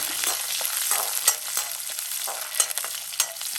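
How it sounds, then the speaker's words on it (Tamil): Garlic and curry leaves sizzle loudly in hot oil and are stirred, giving a dense steady crackle with a few sharper spatters. "நல்லா எண்ணெய் சூடாயிடுச்சு. இந்த பூண்டையும் போட்டுட்டு இப்போ"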